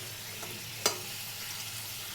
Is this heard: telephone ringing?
no